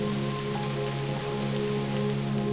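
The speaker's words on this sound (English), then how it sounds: "the rain gods finally blessed the parched land after 3" Rain falls steadily on dry, parched land after years of drought, a dense, even patter that stays constant and close throughout, with a low steady hum beneath it.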